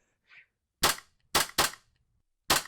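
Airsoft gun shots in a tactical training simulator game come as four sharp, loud cracks in quick uneven succession, two nearly back to back. A faint brief click comes before them.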